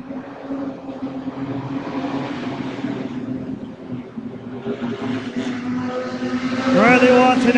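Race cars roar past on a dirt oval during a main event, a dense continuous engine drone that swells louder near the end with a rising whine, while an announcer's voice carries over it.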